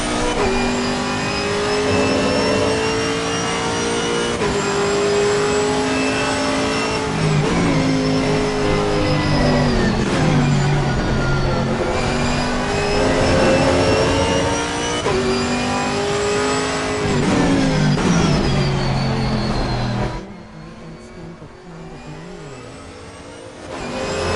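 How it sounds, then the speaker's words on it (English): A Chevrolet Camaro race car in Assetto Corsa Competizione roars loudly and continuously, revving up and dropping between gear shifts, then easing off near the end, with no talk. "the engine is so freaking loud in my headphones right now"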